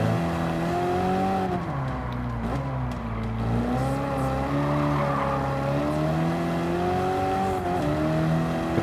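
A classic Cobra race car in Gran Turismo 7 holds a loud, continuous engine drone that dips and rises as the car brakes and accelerates through corners, with tire squeal mixed in throughout.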